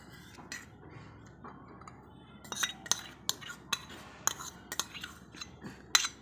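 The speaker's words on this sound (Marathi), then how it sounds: "आता मी ते 2 चमचे खजूर चिंचेची चटणी घालणार आहे।" A spoon mixes date-tamarind chutney into a Maharashtrian wet bhel in a bowl, quiet at first, then a run of sharp metallic clinks and taps against the dish, close and uneven.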